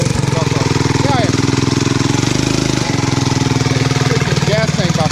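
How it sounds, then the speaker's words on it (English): Golf cart with a Predator 420cc engine running loud and close, a steady rapid chugging beat throughout, with people talking over it. "We're about to go for a ride on the golf cart."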